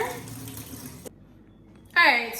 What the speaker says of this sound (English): So washing the ginger.